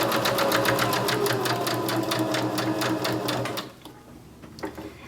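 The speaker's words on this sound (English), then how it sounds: "you'll just press down and keep that nice and secure as you send it to the machine" A sewing machine chain piecing patchwork quilt seams runs in a fast, even rattle of stitches for a few seconds, then stops, leaving near-silence with a faint handling knock.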